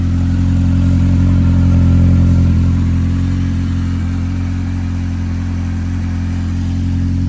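Turbocharged four-cylinder Polaris RZR Pro R side-by-side engine runs close and loud with a steady deep drone, swelling slightly in a mild rev before easing back, with no voices.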